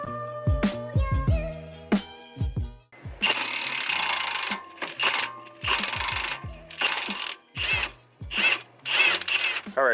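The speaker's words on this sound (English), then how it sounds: "we're going to use our 18mm impact socket, and we're going to release the OEM shocks from the knuckle" Close, loud tool noise as an 18mm impact socket frees the front shock bolts from the knuckle on a BMW Z4: ratchet clicks first, then repeated harsh bursts of several seconds each, alone with no voices.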